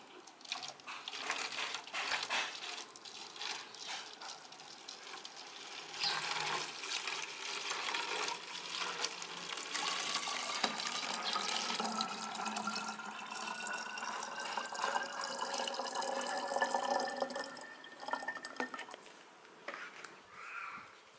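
Homemade liquid plant fertilizer mixture poured into a 1.5-litre plastic water bottle, a continuous gurgling, splashing fill lasting about twenty seconds, with the pitch rising steadily as the bottle fills.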